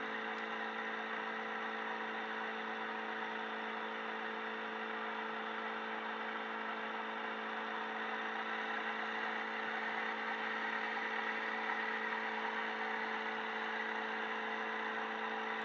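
A steady engine drone from a Tecnam P2002 light aircraft idling at an airstrip, with a constant whir and fixed harmonic tones, holding an even idle throughout with no talking.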